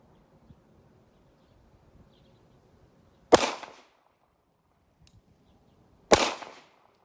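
Two sharp, loud pistol shots from a red dot pistol, spaced about three seconds apart, each with a short ringing decay in an otherwise quiet outdoor setting.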